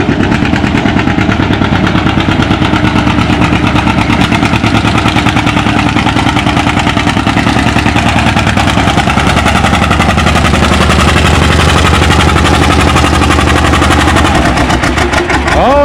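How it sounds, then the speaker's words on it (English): A John Deere A tractor pulls hard at a tractor pull event, its engine giving a loud, continuous, rapid-firing pop and roar that holds steady throughout. "here comes Kevin on the John Deere A"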